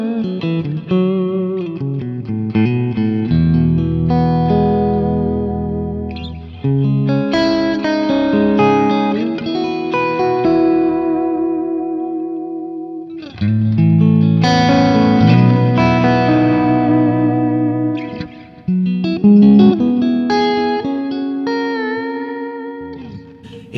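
Electric guitar through an amp playing sustained chords and melodic phrases, bathed in a spacious hall reverb with long ringing tails between phrases.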